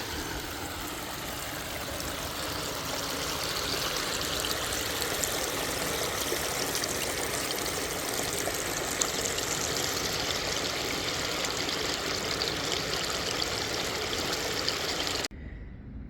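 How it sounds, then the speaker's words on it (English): A small waterfall in a park at Cave Spring, Georgia rushes and splashes continuously, a steady broad roar of falling water with no voices, ending abruptly. "take in this small little waterfall in the park"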